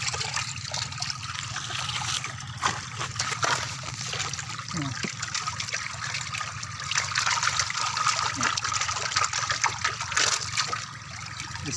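Water pours steadily into a fishpond through a gate, giving a continuous trickling, gushing flow. It stays fairly constant and close throughout.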